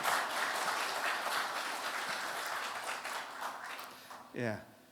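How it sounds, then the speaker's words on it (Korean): Forum audience applauds in a hall, steady clapping that gradually thins, with a voice briefly speaking near the end. "박수 소리는 들립니다만 하나도 안 보여가지고"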